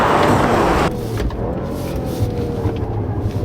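BMW M5 in all-wheel drive mode accelerating hard: a loud roar that drops suddenly, then a lower sustained engine drone with rising tone, heard close from inside the car.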